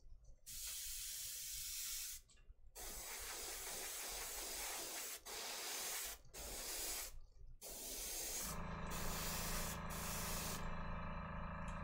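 An airbrush sprays translucent paint onto miniatures in steady hissing bursts separated by brief pauses, with a longer continuous spray at the end carrying a low compressor hum beneath it.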